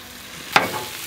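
Sausage on a Blackstone griddle gives a quiet steady sizzle, broken by one sharp, brief scrape or sputter near the middle.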